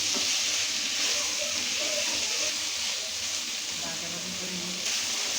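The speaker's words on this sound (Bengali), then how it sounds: "মাছ ঝুড়িটাকে খুব সুন্দর করে ভাজা ভাজা করতেছে।" Shredded Surma fish mixed with onion, chili and spice paste fries in a pan, giving a dense, steady hiss that stays close and even throughout.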